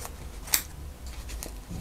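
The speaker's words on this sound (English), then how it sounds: "I'm just going to cut some of the" Scissors cutting guard hair and underfur from a hare's mask for fly tying make one crisp, close snip followed by a couple of fainter snips.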